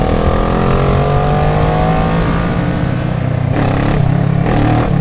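Kawasaki ER6-N 2014 motorcycle engine revving hard and close, a loud continuous roar with rising pitch sweeping upward through the clip, then pulsing as the throttle is worked near the end.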